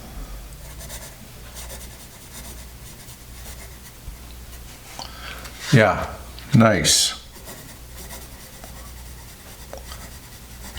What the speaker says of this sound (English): it's really fun to be able to write with a piece of pencil history